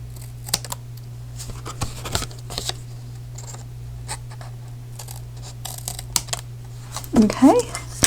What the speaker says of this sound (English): So just take your scissors and just cut that off.